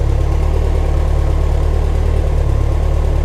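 A warmed-up Lotus Esprit engine with a recently blown head gasket idling steadily, a loud, close, continuous low rumble with an even pulsing hum and no voices over it.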